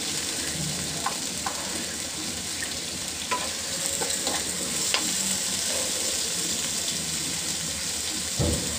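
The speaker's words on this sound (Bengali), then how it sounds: "সাথে শুটকিটা দিয়ে দিচ্ছি, পেঁয়াজের সাথে ভাজা হয়ে যাবে।" Dried fish frying with onion in a pan while being stirred, a continuous close sizzle broken by scattered scraping and clinking stirring sounds, for a Bangladeshi dried fish and Malabar spinach dish.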